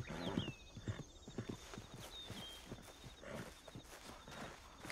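Horse hooves clip-clop in a steady walking rhythm with a sharp whinny near the start, set in the Red Dead Redemption 2 video game, with quiet background texture throughout.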